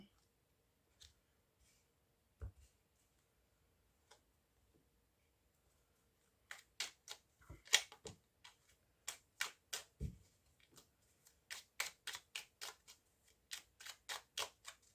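Tarot cards being shuffled and cut, sparse soft taps at first, then a fast run of crisp close card clicks and snaps.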